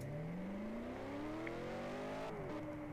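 A car engine revs in a racing video game, its pitch climbing smoothly and steadily before a gear change drops it and it climbs again, loud and continuous with no talking.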